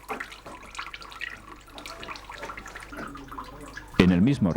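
Water separated from olive oil trickles and runs through a small channel at a traditional animal-powered family olive mill, a faint, continuous flow that turns briefly louder near the end, with a voice talking over it.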